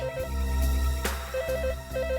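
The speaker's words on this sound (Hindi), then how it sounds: "सर घंटी यहाँ भी बज रही है कहीं पे।" A landline telephone rings nearby in a hotel, in short repeating electronic trills with brief gaps, under a steady musical background.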